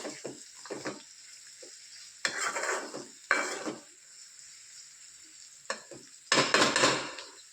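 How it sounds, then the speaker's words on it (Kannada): Onion frying in a pan while being stirred: a faint sizzle beneath intermittent scraping and clinking strokes of a utensil, some strokes louder than others. "ಇಲ್ಲಿ ಇವಾಗ ಆನಿಯನ್ ಫ್ರೈ ಮಾಡ್ಕೊಳತ್ತೇನೆ"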